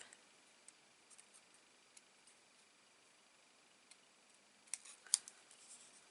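Scissors snip through card stock on a stamped greeting card, with a few faint ticks early on and then a quiet cluster of close, crisp cuts near the end.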